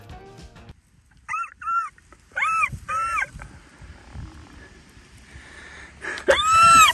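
A dog in a dinosaur survival video game gives several short high whimpers and whines in bursts, with a louder drawn-out whine at the end, set against a quiet low ambient background.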